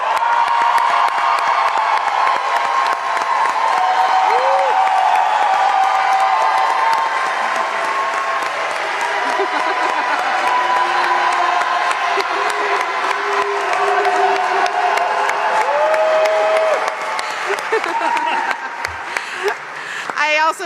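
A crowd cheers and applauds steadily for Eileen Dalton, Brooklyn's Chief of Recreation, at the opening of the Shirley Chisholm Recreation Center, with whoops and shouts over continuous loud clapping throughout.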